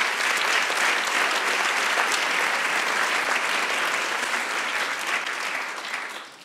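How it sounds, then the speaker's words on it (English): Sustained audience applause at an award ceremony for the SensUs 2017 student competition, a dense steady wash of clapping from a large crowd that tapers off near the end. "So, applause for yourself."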